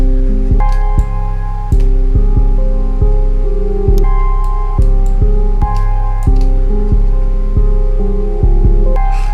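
Deep, booming 808 bass notes in a trap beat, sliding between pitches in a steady repeating pattern, loud and dominant with crisp hits over them and no voices.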